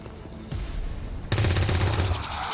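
A shotgun fires in a turn-based alien strategy game, a single sharp loud blast followed by a brief crackling burst, set against a quieter game ambience.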